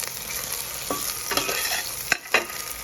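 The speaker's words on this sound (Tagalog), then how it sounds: "Ayan, nagigisa na ako ng sibuyas, bawang, kamatis." Onion, garlic and tomato sauté in a hot pan with a steady sizzle, broken by a few sharp scrapes and clinks of a utensil stirring, and no voices.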